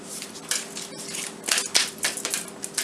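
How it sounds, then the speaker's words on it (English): Soft, quick papery riffling and flicks of tarot cards being shuffled close by, in short uneven bursts with brief pauses between. "Some spiritual cards, a couple more shuffles."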